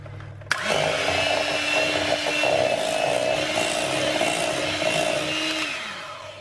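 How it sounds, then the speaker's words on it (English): About a pound of ricotta being whisked in a large bowl, a loud, steady motorized whir that starts abruptly and runs unbroken for several seconds before winding down, with no speech. "now we're going to whisk it until it's nice and smooth and creamy"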